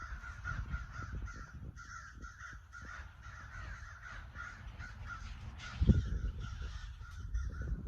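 A flock of crows in a tree caws repeatedly outdoors, with many overlapping harsh calls in an irregular, continuous chorus at moderate distance and a louder thump near the end.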